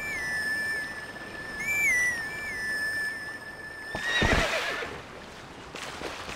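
A horse whinnies over a soft whistled grass-flute melody in The Legend of Zelda: Twilight Princess HD, followed by a burst of hooves and movement, fairly faint with no talking.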